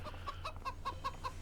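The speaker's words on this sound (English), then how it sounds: "We've got chickens, gang." Chickens in the farming video game Farming Simulator 25 cluck in a quick run of about seven short, evenly spaced clucks, fairly close and clear over a low steady hum.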